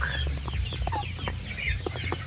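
Chickens, likely sick with colds, cluck and squawk close by, several short calls scattered over a low background rumble.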